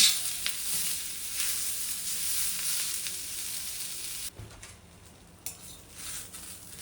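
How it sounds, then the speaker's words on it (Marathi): Onion roasting in a pan until reddish for a coconut-onion masala paste, a loud steady sizzle with faint clinks of stirring; the sizzle drops sharply partway through and continues quieter. "कांद्याला लालसर रंग येईपर्यंत आपल्याला कांदा भाजून घ्यायचा"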